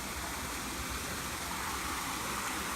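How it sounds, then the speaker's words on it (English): A small creek flows along the Blue Ridge Parkway, a steady broadband wash of running water that stays even and continuous throughout, with no voices over it. "And see, there's the little creek."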